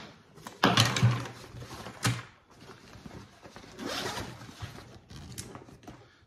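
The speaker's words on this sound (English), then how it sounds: "So the batwings are really easy to zip on and off." Eberlestock batwings are zipped onto a pack in a few quick, rasping pulls separated by brief pauses, close and clear, with no talking.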